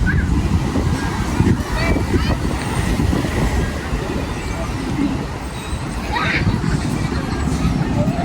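Strong wind gusts steadily outdoors at a riverside picnic, buffeting with a loud, continuous low rumble. Faint voices can be heard beneath it.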